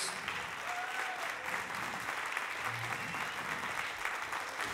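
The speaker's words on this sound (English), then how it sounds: "Give them a big round of applause" Sustained applause from a concert audience for a university jazz orchestra after its set, steady and dense throughout without a break.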